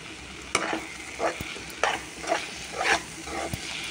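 Sliced onions and green chillies fry in a pan, a soft continuous sizzle broken by several scraping stirs of a spatula at irregular intervals, heard up close.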